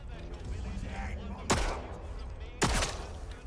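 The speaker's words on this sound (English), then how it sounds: "I'll do some basic peek shooting there" Two sharp pistol shots in Atomfall, about a second apart, each a loud crack with a short tail, over quiet ambient background.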